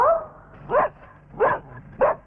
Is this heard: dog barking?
yes